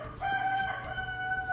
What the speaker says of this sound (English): It's 6 a.m. and the rooster crows.